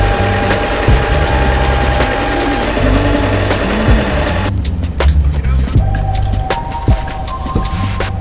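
A sewing machine runs steadily, stitching a zigzag seam alongside a straight stitch on a homecoming dress, its loud continuous motor hum and rapid needle rhythm shifting slightly partway through.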